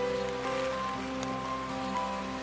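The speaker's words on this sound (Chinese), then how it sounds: "就拍着拍着，然后就突然下雨了" Sudden rain falls at a city street intersection in Shanghai, giving an even, steady patter mixed with low traffic hum throughout, with no voices.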